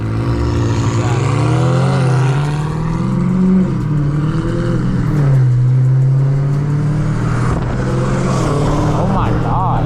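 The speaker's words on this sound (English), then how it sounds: "Dude, those turbos sound crazy." A turbocharged car engine revving loudly nearby, its pitch rising and falling through several swells, with voices talking over it.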